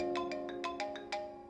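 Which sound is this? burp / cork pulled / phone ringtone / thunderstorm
phone ringtone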